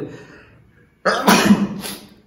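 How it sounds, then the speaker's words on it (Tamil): A single sudden, forceful sneeze after a quiet breathy lead-in, close to the microphone and loud, then a brief fading trail. "என்னன்னு தெரியல, தும்மல் வந்துகிட்டே இருக்கு."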